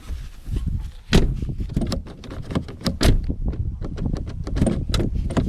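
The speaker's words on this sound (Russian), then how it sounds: "Сама дверь вообще вот классно закрывается, открывается." A 2021 Lada Vesta car door being opened and closed several times, with latch clicks and a few solid thuds at close range, no talk.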